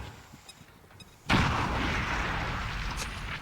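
An incendiary grenade goes off in XCOM 2 with a sudden loud blast after quiet tactical ambience, followed by a sustained roaring crackle of fire that holds steady to the end.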